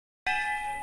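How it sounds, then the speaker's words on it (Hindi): A metal temple bell struck once at the Sheshnag temple, a sudden clear clang followed by a bright ringing sustain that hangs steadily without fading, no voices. "और हम घंटी बजाएंगे, और छोटी बेबी ने भी बजा दी घंटी"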